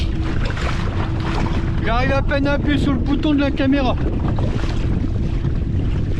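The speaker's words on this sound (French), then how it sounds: "Là, le vent a forcé un peu," Strong wind roars and buffets the microphone continuously over open water, while someone speaks briefly in the middle.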